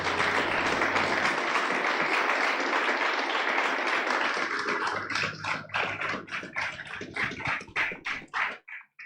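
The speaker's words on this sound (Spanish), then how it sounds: "Dele un aplauso a Él," A church congregation bursts into loud, sustained applause, dense clapping that thins into scattered claps before fading out.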